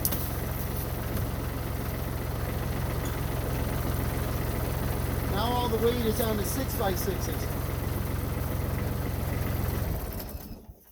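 A tractor engine idles steadily and loudly up close for about ten seconds with a low continuous throb, someone talking over it midway, before the engine is shut off and winds down at the end.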